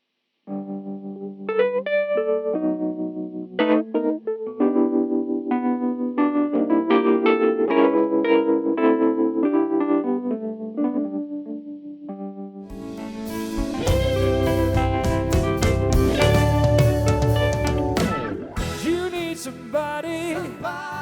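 Electric guitar rings out through a speaker cabinet miked near the speaker's edge with a condenser microphone, first a cleaner chordal passage, then a thick, heavily distorted section with loud sustained chords.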